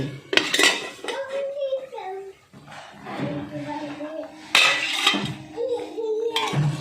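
A metal lid lifted off a cooking pot, clanking metal knocks and rattles at the start and again mid-clip, mixed with kitchen clatter and someone talking over it.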